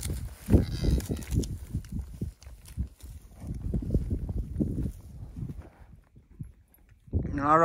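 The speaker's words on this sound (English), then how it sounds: "All right, getting these cows together." A herd of cattle being gathered outdoors for a drive, with several loud, close moos rising and falling in long calls, broken by brief pauses and mixed with someone talking.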